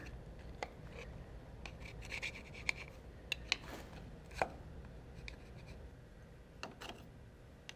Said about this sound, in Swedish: En sån här liten, en speciell skrapa för detta.